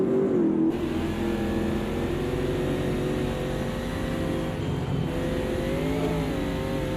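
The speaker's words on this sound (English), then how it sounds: "Did you hear that engine rev up?" In a sim racing game, a race car engine at the Bathurst circuit drones loudly and continuously, its pitch rising and falling slightly as it revs and accelerates, with no talk over it.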